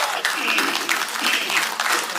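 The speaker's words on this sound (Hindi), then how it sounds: "तालियों की जो गूंज है वो कमनी नहीं चाहिए बल्कि बढ़नी ही चाहिए।" Audience at an environment seminar attended by a state chief minister breaks into sustained applause, a dense, even patter of many hands clapping.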